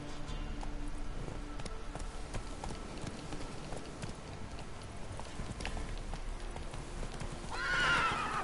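A horse in The Witcher 3 gallops in a steady clip-clop of hooves under a constant game background, then lets out a loud neigh near the end.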